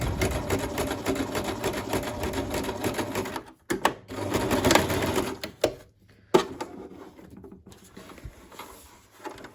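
A sewing machine runs along the seam of a small fabric toiletry bag in rapid stitching bursts. The bursts pause briefly between passes, with light handling clicks, close by and without speech.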